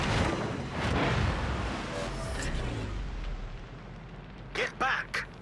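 Heavy naval gunfire from the battleship Conqueror in World of Warships: dense, booming artillery blasts fill the opening seconds, then a few sharper bursts near the end, with a voice speaking at times.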